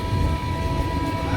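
Rumbling train noise on a journey to Chandigarh, a steady low drone with rail clatter filling the short stretch, close and continuous.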